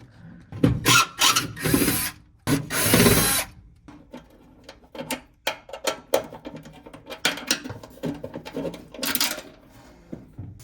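Screws being backed out of a GE dryer while removing the blower motor, giving a close run of irregular ratcheting clicks and short whirring driver bursts with brief pauses between, loud and without talk.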